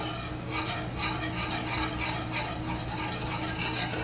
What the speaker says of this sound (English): Be stirring frequently on this because you don't want your cornstarch and your brown sugar to clump.